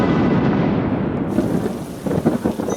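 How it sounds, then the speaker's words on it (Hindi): Heavy rain pours down with rumbling thunder in an animated Hindi story, a dense continuous roar that swells with louder crackling gusts toward the end, with no voices. "वो देख, बारिश आ गई है।"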